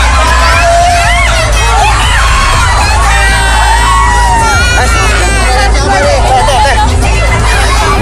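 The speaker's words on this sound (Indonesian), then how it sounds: "sejumlah wanita, lansia hingga anak-anak histeris lantaran terhimpit di tengah kerumunan" Hysterical crowd of women, elderly people and children crushed while scrambling for handouts, a dense loud mass of overlapping screams, shouts and wails with steady babble and a low rumble underneath throughout.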